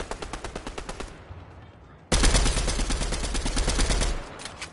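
Fortnite gunfire rattles off in rapid automatic bursts. A fast volley is followed by a brief lull, and then a louder, heavier stream of shots runs for a few seconds before easing.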